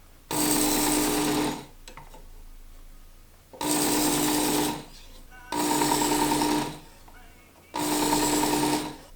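A knife drawn through a handheld knife sharpening tool, four separate loud bursts of harsh, broadband grinding and scraping, each lasting about a second and a half, with short quiet gaps between the strokes.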